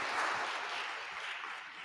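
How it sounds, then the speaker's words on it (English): An audience claps at a live-streamed table discussion session, a brief, even wash of applause that fades slightly toward the end. "Applause for Jonathan"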